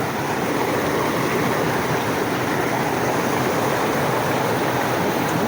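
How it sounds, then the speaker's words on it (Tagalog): Strong current of a flowing river, a steady, dense rushing roar of water that stays loud and unbroken from start to finish, with no voices. "Malakas ang agos niyan guys."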